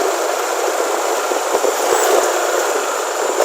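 A motorcycle engine idling roughly at low RPM on Fastron Techno 15W40 oil, a loud, steady, coarse drone held close throughout with a few brief ticks.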